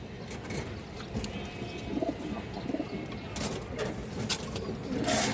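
An army-breed pigeon, restless and active, coos softly in short phrases nearby amid light rustling and low room background, with a few sharper knocks near the end.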